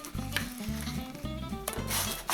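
Shredded kataifi pastry frying in butter in a pan, a close sizzle with stirring scrapes and louder hissing bursts near the end, over a rhythmic background music beat, no talking.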